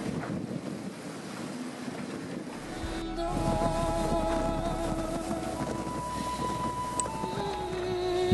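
A sailing boat speeds across open water at high speed with people aboard, with rushing spray and wind buffeting loud and steady throughout, thickening after a few seconds, while tonal whines and hums ride on top.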